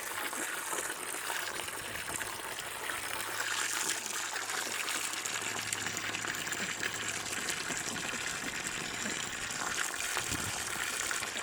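Fresh water pours steadily for backyard ducks, a continuous gushing trickle that stays fairly faint and even throughout, with no voices over it.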